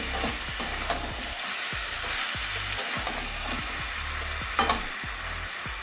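Sesame chicken frying in oil in a pan while being stirred, a constant loud sizzle with regular scraping strokes and a few sharp clicks of the utensil against the pan.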